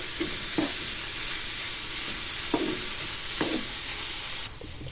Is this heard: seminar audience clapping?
no